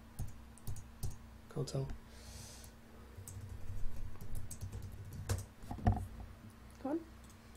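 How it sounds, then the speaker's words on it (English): Quick, light computer keyboard clicks as a password is typed, tapping in short bursts close by, with talk over part of it. "I'm not sure if I keep typing my password wrong or if it's genuinely just my caps lock on."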